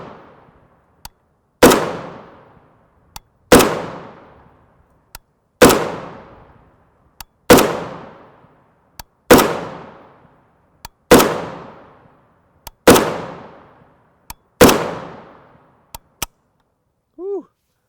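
Rifle shots from 7.62x39mm 123gr FMJ rounds fired in a slow, evenly spaced string of about eight loud, sharp cracks, each ringing off into a decaying tail, with no talk over them.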